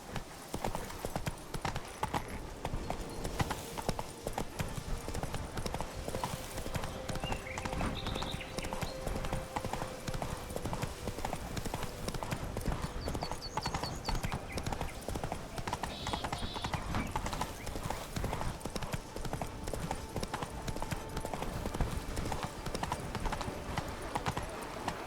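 Horse hooves clip-clop in a steady galloping rhythm through a session of the video game The Witcher 3: Blood and Wine, close and continuous with occasional whinnies, while a player's voice talks over it.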